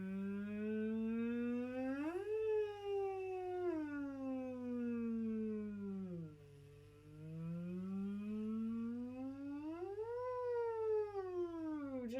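A human voice imitates a siren during a vocal exercise on a V sound, a slow sustained glide rising, falling low, then rising again, smooth and continuous like a wailing siren, close and alone.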